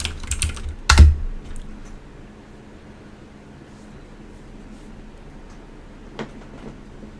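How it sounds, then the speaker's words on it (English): Computer keyboard typing of a Linux update command in a Kali Linux terminal, a quick burst of clicky keystrokes near the start followed by a faint single tap later over a quiet background hum. "you can simply type apt update"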